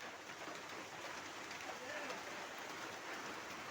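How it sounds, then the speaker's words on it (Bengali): Rain falls steadily in a continuous soft hiss, fairly faint, with no distinct drops standing out. "বৃষ্টি এলো ভিজবা না?"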